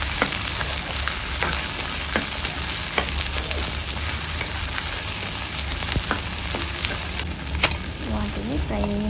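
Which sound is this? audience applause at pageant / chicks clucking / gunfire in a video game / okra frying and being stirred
okra frying and being stirred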